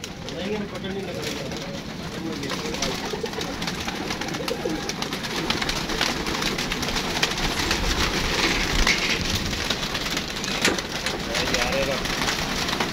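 A young pigeon recovering after being attacked by a laggar falcon coos softly and repeatedly nearby, with a person talking throughout.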